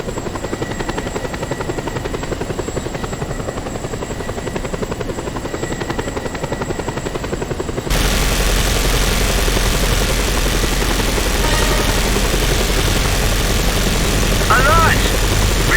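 A helicopter flies in the video game Just Cause 2, giving off a loud steady rotor and engine drone that jumps sharply in level midway and then keeps roaring without a break.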